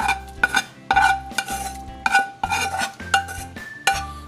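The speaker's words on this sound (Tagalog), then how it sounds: "Okay na ito mga ginisa at sasalin ko na ito sa pot ng ating lentil beans." Sautéed tomatoes being scraped and spooned from a pan into a pot of green lentils, with a series of loud, close metal clinks and scrapes of utensil against cookware in irregular bursts.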